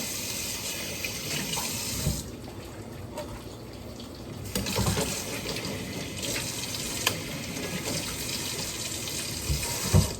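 Tap water runs steadily into a kitchen sink as an onion is rinsed, with a continuous splashing rush, a brief dip partway through, and small knocks near the end.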